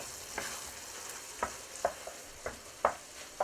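Okra and tomatoes cooking in a pan, with a soft steady sizzle and several sharp scraping clinks from stirring spaced irregularly over the quiet frying, all close and fairly faint.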